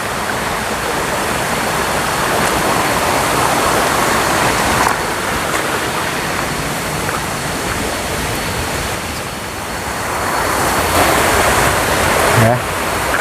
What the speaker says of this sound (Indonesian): Kita bersentuhan lagi dengan sungai.